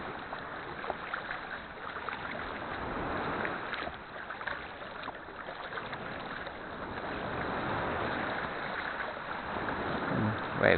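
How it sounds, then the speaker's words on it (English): Sea waves wash and slap around a kayak off Porthpean, Cornwall, a continuous nearby sloshing with wind buffeting the microphone. "Waves getting slightly bigger,"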